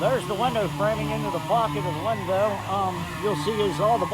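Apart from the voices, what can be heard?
No everyday noises stand out.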